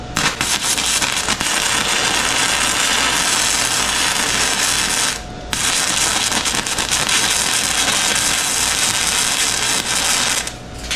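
An ArcCaptain MIG145 Pro MIG welder lays a weld, a loud, continuous crackling sizzle close by that stops briefly midway and then resumes without a break.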